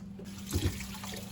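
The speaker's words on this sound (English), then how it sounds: "I think I also need to add a little bit more water." Brief splash of water poured into a slow cooker pot, close and fairly soft, over a steady low hum.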